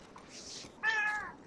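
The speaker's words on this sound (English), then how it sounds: "Oh, my cat is here." Indoor house cat giving a short, quiet meow, rising then falling in pitch, with a faint breathy sound before it.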